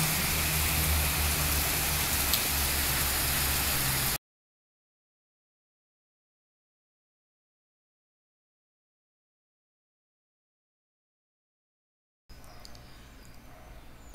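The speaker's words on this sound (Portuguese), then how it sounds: "chuvarada em Santos, litoral de São Paulo" Heavy nighttime rain in Santos on the São Paulo coast, a dense steady hiss of downpour heard loud and close for a few seconds, then a long dropout before the rain returns more quietly.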